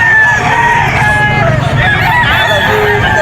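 Yellow-legged Sweater gamefowl rooster at a busy pet market in Bocaue, crowing and clucking close by amid crowd babble and other birds.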